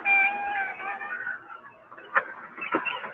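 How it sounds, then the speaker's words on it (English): A litter of kittens meows loudly and close by, with overlapping high, wavering cries followed by a few sharper short mews. "How many kittens you got? 5. Well, 4 now."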